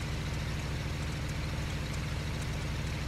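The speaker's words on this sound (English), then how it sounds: "My truck's doing a weird noise." A steady low engine idle rumbles continuously at moderate level, a faulty video game truck in State of Decay running in place with no voices.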